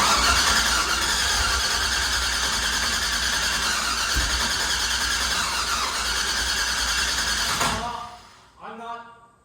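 Turbo LS engine fitted in an S10 truck, cranking on its own for several seconds with a loud, continuous whirring squeal and engine drone that suddenly cuts off, followed by a short, fainter burst.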